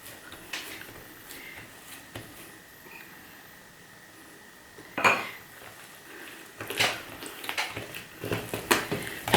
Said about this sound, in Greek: Ακούστε τη ζύμη. Κάνει κλατς, κλατς, κλατς.